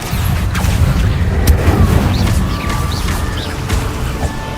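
Repeated booming spell blasts from Hogwarts Legacy, Confringo explosions mixed with other magic effects in dense, loud combat audio, with rumbling low impacts and scattered whooshes.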